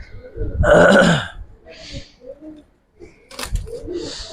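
Giribaz pigeons in a large collection in Jurain, Dhaka, give throaty, bubbling coos in several separate bursts, close by, with quiet gaps between them and some voices in the background.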